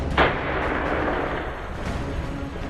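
An explosive test blast set off by terrorists: one sharp, loud detonation near the start, followed by a broad, roaring rumble that carries through the rest of the clip with no voices.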